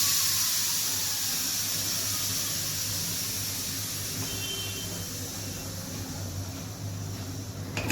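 Steam hisses steadily and loudly from a pressure cooker of masoor dal as its lid is opened, a continuous airy rush that fades slightly toward the end, with no voices.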